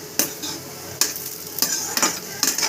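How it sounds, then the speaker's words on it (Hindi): Soybean chunks fry in a pan with a steady sizzle, broken by several sharp stirring scrapes and clinks at irregular intervals, close and moderately loud with no talking. "इधर सोयाबीन फ्राई कर रहे हैं"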